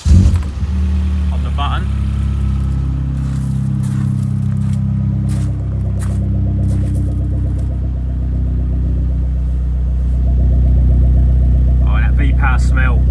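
An Opel Z20LET turbocharged 2.0-litre engine cranks and fires, then settles into a steady, loud running note with a slight rise later on, while someone talks over it in the cold.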